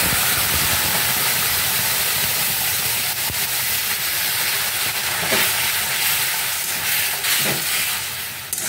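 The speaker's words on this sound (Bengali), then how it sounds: "তেল গরম হয়ে গেছে, দিয়ে দিচ্ছি রসুন আর কাঁচা লঙ্কা" Garlic and green chillies fry in hot oil for a leafy greens curry, throwing off a dense, constant hiss and crackle that stays close and strong throughout without any talking.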